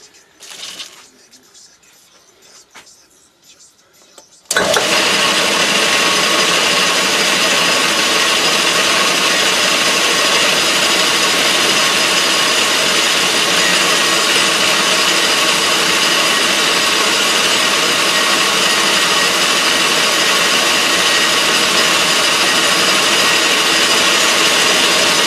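Metal stock being parted off on a lathe while making small electrical terminals for a PM Research model dynamo; after a few quiet seconds, a loud, steady cutting hiss and grind starts and runs unbroken to the end.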